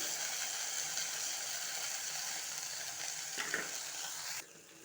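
Okra frying in a pan, a steady close sizzle with a brief scrape of stirring near the end before the hiss drops away, no talking.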